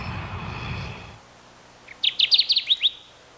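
A Kirtland's warbler sings a short, bright song of rapid chirping notes after a second of low background rumble and hiss, clear and fairly close.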